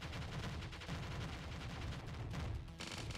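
A video game turret firing back, a continuous stream of rapid gunshots, fairly quiet and steady, ending with a brief harsher burst.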